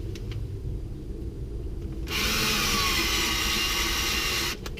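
A combination countersink drill bit bores into wood while building a Layens beehive, a steady loud whirring drill run starting midway through and stopping near the end, close and alone after a quiet workshop hum.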